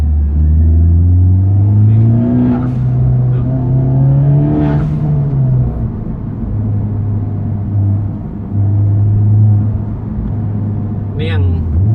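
A Honda Civic Type R FK8 2.0 turbo with an Armytrix aftermarket exhaust revs up and settles in loud, close engine pulls and a deep droning idle, with a brief turbo hiss, while someone talks over it.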